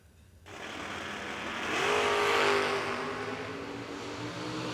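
A Camaro drag race car launches and accelerates hard down the racetrack, its engine roar swelling loudly to a peak and then easing as it pulls away, heard alone without talk.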